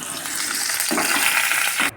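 Potatoes frying in oil in a kadai give a loud, dense, continuous sizzle up close, with a slight stirring shuffle near the middle and no voices.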